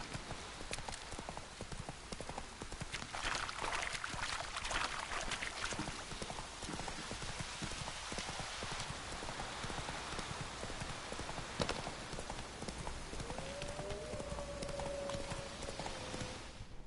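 Hooves of Roach, the horse in the video game Witcher 3, clip-clopping in a steady galloping rhythm under a constant wash of rain, with a faint whinny-like tone near the end.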